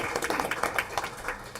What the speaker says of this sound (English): Let's give our young man a round of applause.